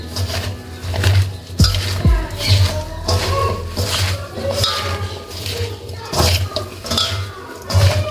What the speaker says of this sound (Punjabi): ਆਪਾਂ ਇਹਨਾਂ ਸਾਰੇ ਮਸਾਲਿਆਂ ਨੂੰ ਮਿਕਸ ਕਰ ਲਵਾਂਗੇ